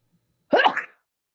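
A single short, sharp sneeze bursts out of near silence during a city council committee meeting and fades quickly.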